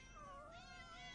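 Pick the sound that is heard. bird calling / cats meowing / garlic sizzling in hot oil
cats meowing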